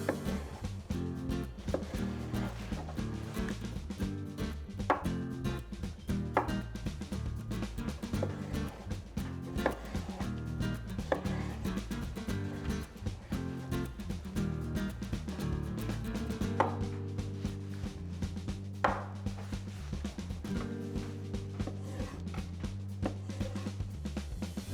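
A knife slices zucchini on a cutting board, quick regular chopping taps repeating throughout under a continuous layer of background music, with no talk.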